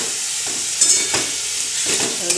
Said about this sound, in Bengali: দেখো পেঁয়াজটা লাল করে ভাজা হয়ে গেছে, মজে গেছে পুরো